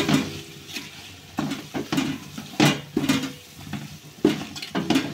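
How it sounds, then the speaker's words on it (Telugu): Egg biryani masala with ginger paste and chilli powder stirred in a pot, a spoon scraping the bottom in repeated close strokes over a steady sizzle. "అడుగు అంటుకోకుండా తిప్పుకుంటా కలుపుకోండి"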